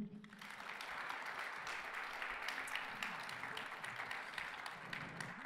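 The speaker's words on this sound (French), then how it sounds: "Applaudissements." Audience applause at a live concert by a Breton band with bombarde and accordion, a steady dense roar of clapping from a crowd lasting the whole stretch, fairly loud and even, with no talk over it.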